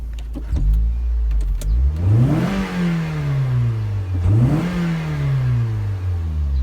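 A Scion xB engine revving hard twice, pitch climbing and then dropping back to idle between pushes, loud and close.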